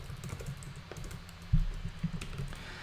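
Fingers type on a computer keyboard in a steady, quiet patter of key clicks, with a single heavier thump partway through.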